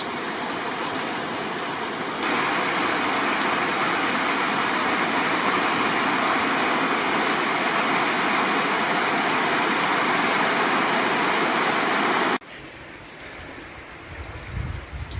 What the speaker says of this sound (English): And still the rain continues